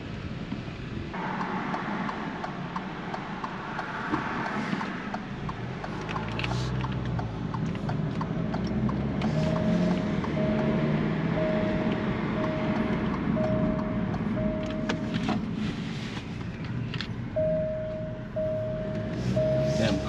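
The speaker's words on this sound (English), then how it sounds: "let's go ahead and take this car on a drive" An Alfa Romeo car drives through Miami streets, with a steady low engine and road rumble running throughout and faint intermittent tonal beeps.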